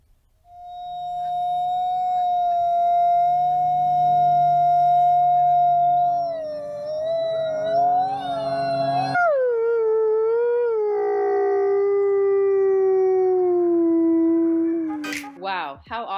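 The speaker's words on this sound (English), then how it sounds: "they communicate with one another by howling to establish their territories. Let's go ahead and listen to some of that howling now." Wolves howl in long, clear, rising and falling notes. One dominant howl holds steady, then slides lower, while fainter overlapping voices join near the end. The howling is loud and close, with no talking.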